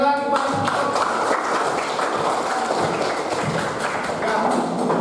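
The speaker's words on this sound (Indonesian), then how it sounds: "kita beri aplaus sekali lagi Pak" A classroom audience applauds, with many hands clapping in a dense, steady patter that lasts the full few seconds at an even, fairly loud level.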